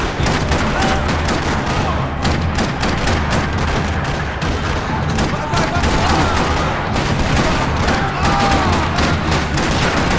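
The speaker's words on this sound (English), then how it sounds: "Rattling with gunfire." Dense, continuous gunfire from the video game Max Payne 3, rapid overlapping shots and bursts filling the scene loudly with little pause.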